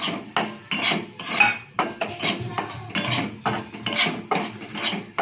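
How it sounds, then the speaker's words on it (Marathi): Semolina is dry-roasted in a pan for upma and stirred steadily with a spoon. The scraping and rasping comes in quick, regular strokes, close and fairly loud, with no talk. "रवा मी भाजून घेणार आहे"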